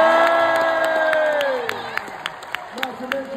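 Crowd at a WWE live wrestling event in Sheffield cheering and applauding, loud and sustained at first, then thinning to scattered claps and shouts.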